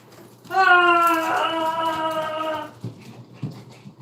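Puppies whine and whimper indoors in a house, with one long rising whine up close, followed by a few fainter, softer sounds.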